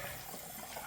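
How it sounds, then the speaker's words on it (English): Water from a shaving bowl poured out into a sink, a steady splashing gush that carries through the whole short moment, close and fairly even. "Let's dump this water out."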